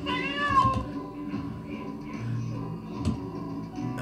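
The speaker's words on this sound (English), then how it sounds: "We just stepped over the cat." A virtual cat in Second Life gives a single drawn-out meow near the start, moderately loud, followed by quieter background sounds and faint ticking.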